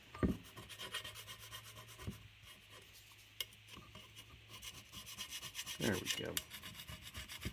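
Hand scraper scraping an old gasket off a Mopar 318 engine, a quiet, continuous rubbing rasp with faint scratchy strokes and a few knocks, close by, with a brief spoken remark.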